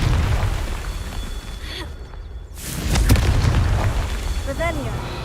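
A Confringo spell in Hogwarts Legacy erupts in a loud, sustained explosive burst with a whooshing rush, followed by crackling debris under a voice.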